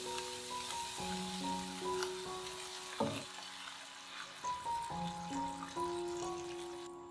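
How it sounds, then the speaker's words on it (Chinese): Water goes into a hot wok holding minced pork and soy sauce, with a steady hiss and sizzle under a layer of background music and a short clatter in the middle. "倒水"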